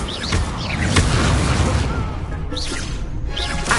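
Incendio fire spell from a Harry Potter video game, a rushing, crackling fiery blast that fills the whole moment, loud and dense, with whooshing swells and faint game sounds layered over it.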